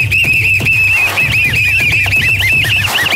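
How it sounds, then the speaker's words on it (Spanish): A whistle is blown loudly in one continuous, shrill, warbling tone that lasts about three seconds. "¡Silbato!"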